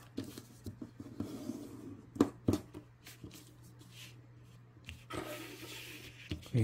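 A4 paper being creased and folded in half while making an origami CCTV camera, with soft crinkling rustles and a few sharper handling taps over a faint steady hum, close and quiet.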